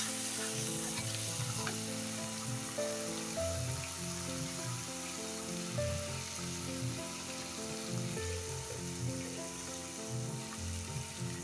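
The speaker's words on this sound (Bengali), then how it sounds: "দিয়ে একটু মশলাটা কষিয়ে নেব।" Masala for crab curry, seasoned with salt, frying in a pan: a loud, continuous sizzle heard close, with regular scraping and stirring strokes throughout.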